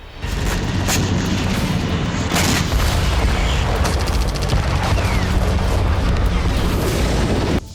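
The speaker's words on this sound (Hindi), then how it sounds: "एक के बाद एक सिलसिलेवार धमाके हुए।" Rocket strikes on a naval airbase in Crimea set off a dense series of loud booms and rumbling blasts that follow one another without a break, a heavy sustained barrage of explosions from start to finish.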